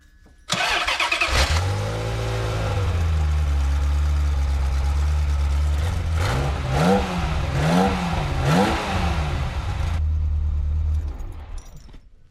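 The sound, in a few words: Ferrari V8 engine misfiring at idle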